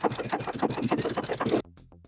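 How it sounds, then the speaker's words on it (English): A sewing machine stitches a seam in sweater knit fabric with adjusted tensions, a fast, loud, close rhythmic clatter that stops abruptly, followed by a few slower mechanical clicks. "So now we're going to sew this seam with the adjusted tensions"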